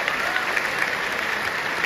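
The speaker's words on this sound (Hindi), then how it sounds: "अपने सम्मान में आप ताली बजाइए।" Audience applause at a college fest poetry recital (kavi sammelan), a steady, even wash of many hands clapping throughout, fairly close and without pause.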